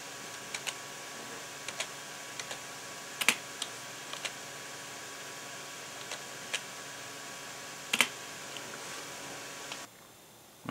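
Sparse key presses on a computer keyboard during a Windows 98 install, single clicks and a few sharper taps scattered over a steady faint hum, with no talking.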